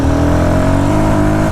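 A Royal Enfield Guerrilla 450 motorcycle engine revs loud and close with the throttle held open, a steady droning roar that eases slightly at the end.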